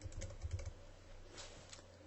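Typing on a computer keyboard, a quick patter of close keystrokes at first that thins into lighter, scattered taps over a steady faint background hum.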